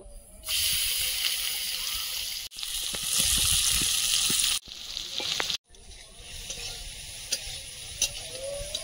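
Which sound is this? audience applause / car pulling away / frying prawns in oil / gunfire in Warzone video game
frying prawns in oil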